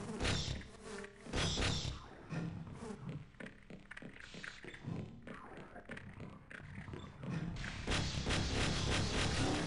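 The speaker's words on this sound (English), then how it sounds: "Look at those bees!" Bees buzz in the Half-Life video game with a dense, continuous insect drone, fairly loud and swelling slightly toward the end, heard without talk.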